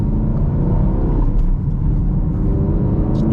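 A Chevrolet Camaro SS 1LE with a manual transmission drives in commuter traffic, giving a steady low engine rumble and road drone from inside the car, without any voices.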